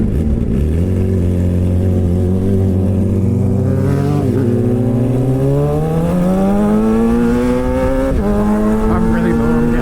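Suzuki GSX-R600 sport bike engine revving continuously and climbing in pitch, with a brief quick-shifter ignition cut dipping the tone before it pulls higher again, loud and close.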